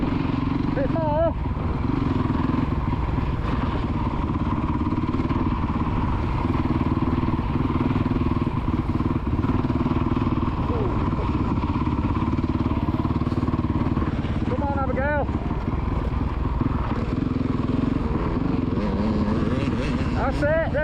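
A kids' motocross bike on a dirt track drones steadily with occasional rising revs, close and continuous under a voice urging the rider on.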